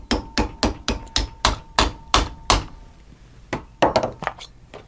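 Hammer tapping a rivet onto the strap of a custom AFO brace, about nine quick, evenly spaced sharp metallic strikes, a brief pause, then a few more taps.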